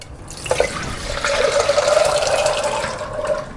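Water pours from a tap into a pressure cooker holding chickpeas soaked for eight hours, a steady close running gush lasting a few seconds with no talk over it.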